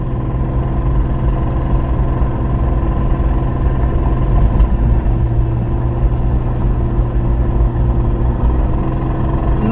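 A 2002 BMW 325i drives along smoothly, its engine and road rumble forming a steady, loud, continuous drone from start to finish with no voices.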